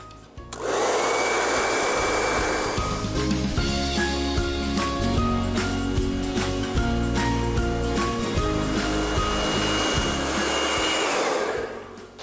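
Hair dryer blowing hot air over a wax-coated canvas shoe, a loud continuous whirring drone that switches on, holds steady for about eleven seconds and shuts off, with no talking.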